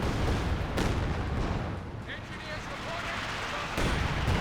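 A heavy mortar barrage in the strategy game Company of Heroes 2, with dense, rumbling blasts and booms rolling over one another in a continuous loud wash, a few sharper impacts standing out.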